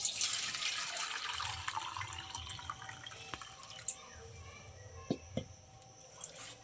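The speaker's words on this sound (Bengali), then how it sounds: "এবার জলটা পাত্রে ঢেলে নেব" Warm water pours and splashes into a pot, a continuous bright stream that tapers into a few drips and small clinks, fairly quiet.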